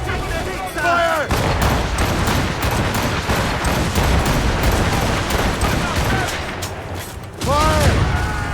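Ship cannons firing in Assassin's Creed Rogue, a dense run of booming shots and crackling impacts through a naval battle, with shouted voices in between.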